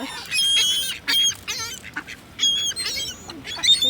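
Ducks and geese in the harbor at Nyack, New York, honk and quack in loud, overlapping bursts close by, with a brief pause midway before the calls pick up again.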